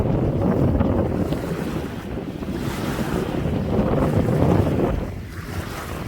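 Strong winter wind blusters across a beach point, roaring and buffeting the microphone over the wash of surf and waves, loud and continuous with no voices.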